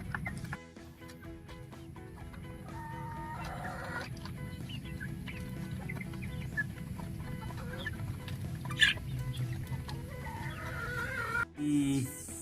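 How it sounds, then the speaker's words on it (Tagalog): Broiler chickens on a Philippine farm cluck steadily and peck at feed, a dense, continuous flock chorus close by with a low hum beneath. "So ang gagaling na nilang tumuka, ayan talagang maganang-magana sa pagkain."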